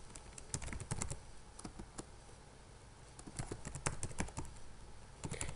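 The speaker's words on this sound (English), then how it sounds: "type in my username and password" Keys clatter on a computer keyboard in quick irregular bursts as a username and password are typed to sign into the Microsoft Excel app, close and fairly clear, with short pauses between runs of keystrokes.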